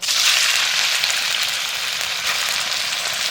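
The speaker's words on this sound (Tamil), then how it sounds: "அப்படியே போட்டு எண்ணெயில் வதக்கி எடுக்க சொல்லியிருக்காங்க" Instant kothu parotta pieces frying in hot palm oil, a loud, steady broadband sizzle that holds without break and with no voices.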